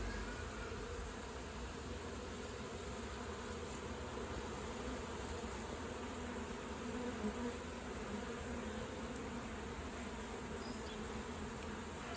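A dense, steady buzzing of many honeybees in flight, continuous and close, with no voices.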